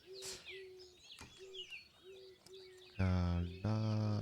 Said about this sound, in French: Les oiseaux chantent.